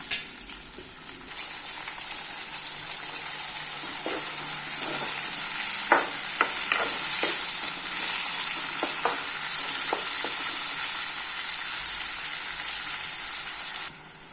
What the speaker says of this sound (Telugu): దోరగా వేయించుకున్న తర్వాత ఉల్లిగడ్డలు వేసుకోవాలి